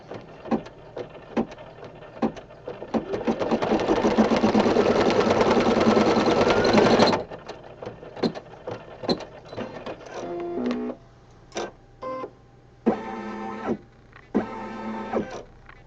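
An embroidery machine stitching a placement line for a hug rug, with rapid needle clatter, a sustained whirring stretch in the middle, then stop-start mechanical bursts and ticks, nearby and moderately loud.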